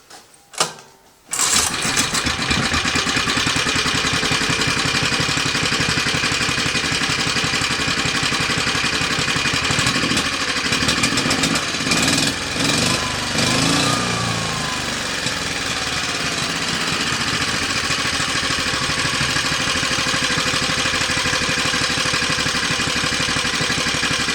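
A Motor Sich MB-6 small engine catches after a brief sputter and then runs steadily and loudly on its own, a continuous close-up motor drone with slight wavering for the rest of the time.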